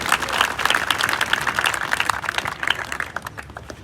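Loud, sustained applause from an audience, a dense wash of many hands clapping that stays strong throughout, with no talk over it.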